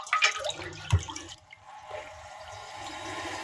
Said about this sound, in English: So let's do a flush.